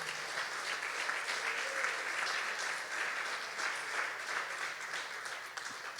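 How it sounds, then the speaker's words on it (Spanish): A church congregation applauds during a Spanish-language sermon, a dense sustained wash of many hands clapping that fills the room steadily for several seconds before easing slightly at the end. "si le quiere aplaudir, por favor."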